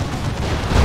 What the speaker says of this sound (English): No, that's a demolisher cannon.